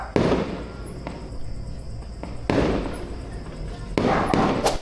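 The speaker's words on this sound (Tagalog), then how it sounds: "So fireworks na day no mo nang ako na lang pong gibidyohan ba." Fireworks burst outdoors at night in sharp, loud cracking blasts, three main booms with crackling tails and a smaller pop between them, while a person speaks in the background.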